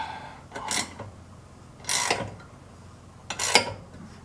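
A bolt is tightened on a cheap aftermarket door of a Polaris RZR side-by-side, making three short ratcheting, creaking bursts close by with quiet pauses between and no talking.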